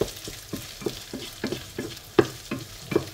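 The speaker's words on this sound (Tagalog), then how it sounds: "Pwede rin naman natin gisahin muna ang mga gulay bago natin ihalo dito." Vegetables sautéing in hot cooking oil in a pan, a steady crackling sizzle broken by rhythmic scrapes and stirs of a utensil roughly every half second, close and with no voices.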